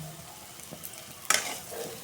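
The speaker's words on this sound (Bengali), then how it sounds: "এটা আমি আলুগুলো বাইজে নিতেছি" Potatoes for biryani fry in a pan, a quiet steady sizzle broken by a sharper, louder burst of crackling and stirring partway through, close up with no talking.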